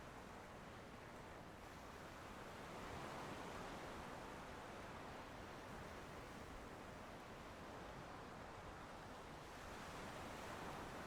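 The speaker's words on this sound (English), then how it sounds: "Oh, I hear water." Water ambience in the video game Monster Hunter Stories 2, a soft, steady wash like surf or rushing water that swells slightly midway and stays fairly faint throughout, with no voices.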